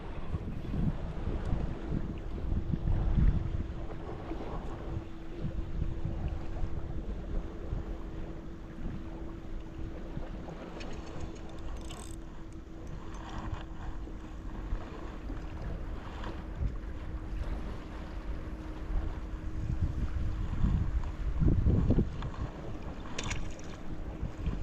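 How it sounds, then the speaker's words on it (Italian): A sustained southerly wind buffets a small boat at sea during cuttlefish fishing, giving a continuous broad rushing roar with gusty swells and a faint steady hum underneath, with no speech. "C'è un pochino di vento sostenuto da sud"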